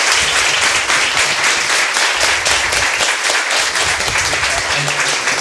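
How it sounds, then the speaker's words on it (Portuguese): A live audience applauds steadily at a panel discussion, dense clapping sustained loud and close throughout without a break. "Uma salva de palmas aí pro pessoal."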